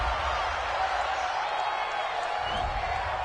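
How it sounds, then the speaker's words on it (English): Home crowd in a football video game roaring steadily after a penalty call, a broad continuous wash of cheering and applause held throughout, with no talk over it. "This home crowd, they're happy with that call."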